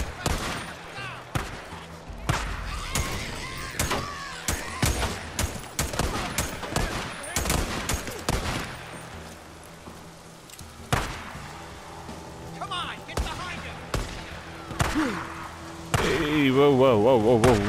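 Rapid gunfire in the video game Days Gone, dense bursts of sharp shots crackling in quick succession throughout, some close and loud, others scattered, with a voice speaking amid the firefight.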